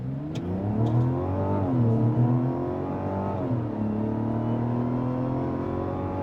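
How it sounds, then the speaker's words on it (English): A 2025 Mazda CX-70 hybrid in sport mode accelerates hard from a full stop, its engine note climbing in pitch through several gear shifts heard from inside the cabin, moderately loud and steady. "We're gonna do a quick acceleration run."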